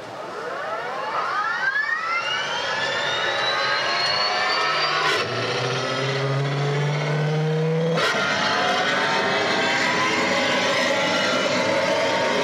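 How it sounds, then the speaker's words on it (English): Robot thrusters engaging as a sound effect for Titan the Robot at a PPMA trade show: a loud sustained roaring, rising whoosh like a jet engine spooling up, with a hard tonal surge in the middle, continuous and alone. "Initiating docking sequence. Engaging forward thrusters."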